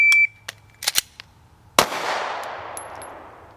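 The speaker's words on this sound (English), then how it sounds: "You're firing, you're firing, you're firing." A shot timer beeps, then a single sharp gunshot cracks out at a shooting range and rings off with a long decaying echo, preceded by a few metallic clicks.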